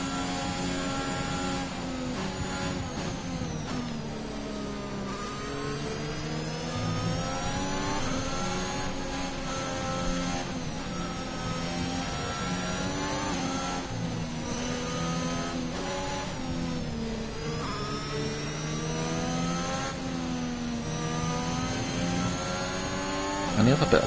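A Formula 1 car with a Renault engine races around Suzuka in the F1 2021 video game, its engine whining and rising and falling through gear changes without pause, with a voice talking over it.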